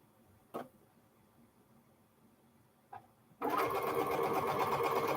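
A sewing machine stitches fabric for a quilt block: two faint clicks in a quiet room, then the motor starts and runs in a steady, loud, close whirring rattle until the end.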